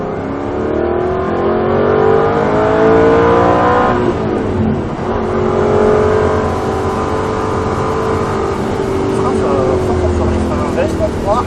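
Aston Martin V8 Vantage race car at full throttle on the Croix en Ternois circuit, a loud close V8 roar climbing through the gears with a short dip at each upshift, heard from inside the cockpit.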